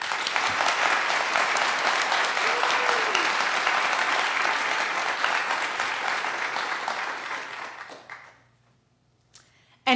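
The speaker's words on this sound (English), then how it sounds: "So if we can get a sample of applause for our technicians right now." A live-taping audience for a philosophy radio show claps a sample round of applause for the technicians, a dense, sustained wash of clapping that dies away near the end, followed by a brief quiet and a short final sound.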